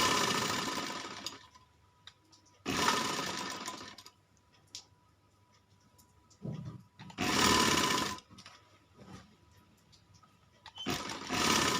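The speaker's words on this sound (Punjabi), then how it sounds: "ਟਾਂਕਾ ਪੱਕਾ ਕਰਕੇ ਸਿਲਾਈ ਸ਼ੁਰੂ ਕੀਤੀ।" A sewing machine stitches a child's kurta in four short, fairly quiet bursts of rapid whirring, each separated by pauses.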